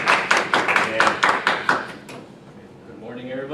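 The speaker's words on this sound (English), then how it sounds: "applause" A small classroom audience claps sparsely at the start of a current-events speech: about eight separate hand claps over two seconds, then the sound fades to near quiet.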